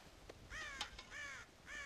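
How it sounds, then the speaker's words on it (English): Crows in the Red Dead Redemption video game give three harsh, fairly loud caws at a steady, spaced rhythm, with a few sharp clicks and faint ambient noise between them. "God damn crows!"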